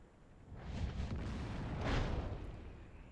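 A Wespe self-propelled artillery piece fires a single shot in World of Tanks, a deep rumbling boom that swells and rolls on for a few seconds before fading, heard alone.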